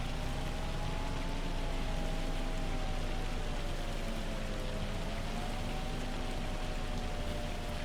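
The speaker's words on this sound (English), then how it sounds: "Hail has slowed down." Dense, steady hiss of hail pelting down in Farming Simulator 25, a continuous even roar with a faint tonal hum running underneath and no talk.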